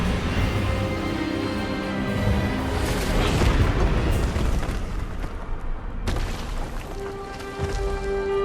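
A spell blast from the Hogwarts Legacy video game: a loud, booming magical burst over a dense rumbling game soundscape with music, sustained for several seconds with a sharp break near the end.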